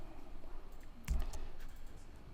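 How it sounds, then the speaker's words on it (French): A single Tab key press on a computer keyboard, heard as one faint, brief click against quiet room tone. "on utilise la touche tabulation sur le clavier, qui est donc, bien sûr, cette touche-ci"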